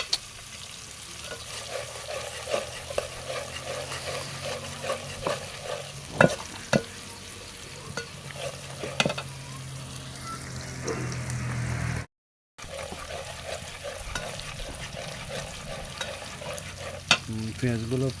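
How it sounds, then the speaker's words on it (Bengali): Onions sautéing in a pan for a mullo-potato rohu fish curry, a steady sizzle with rhythmic scraping stirs repeating throughout, a few louder clanks, and a brief dropout near the end. "এখন পেঁয়াজগুলো একটু"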